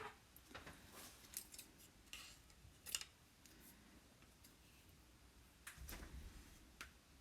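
Scissors snip to trim excess material from a craft tag, giving a few quiet, sharp cuts spread over several seconds, close to the mic in an otherwise hushed room.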